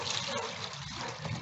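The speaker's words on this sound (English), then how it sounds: "I'm gonna dump this old distilled water" Old distilled water from a car battery service is poured out into a bucket, a steady close splashing gush lasting throughout, with no talk over it.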